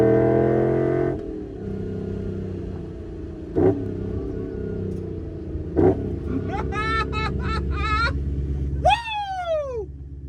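A right-hand-drive BMW E30 with a swapped V8 drives past, its engine droning and revving, with brief sharp bursts and sweeping pitch changes as it accelerates.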